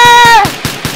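Gunfire in the Minecraft video game, a short loud burst of several rapid shots with a ringing tone fading as the rounds continue.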